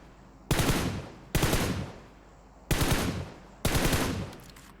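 Four loud, evenly spaced gunshots from PUBG Mobile ring out close by, each a sharp crack with a short decaying tail, over a quiet background.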